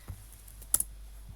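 A few quiet keystrokes on a computer keyboard while Python turtle code is typed, with two quick clicks close together standing out over a faint, steady background.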